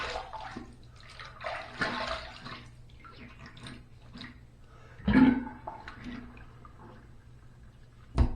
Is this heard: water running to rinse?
yes